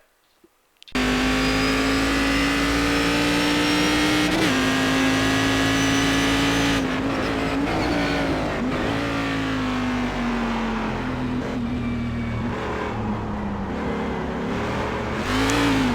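A race car laps the technical Montreal circuit, its engine snapping in loud and close after a moment of quiet, then holding a steady high drone through the rest of the run, with small pitch dips and shifts as it works through corners.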